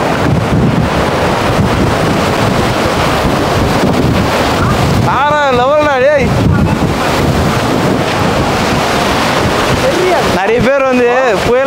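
Cyclone Fengal whips rough sea at Kovalam Beach: loud, unbroken roaring wind buffets the microphone over crashing surf, with a voice calling out briefly twice amid the din.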